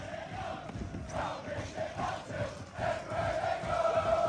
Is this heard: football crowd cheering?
yes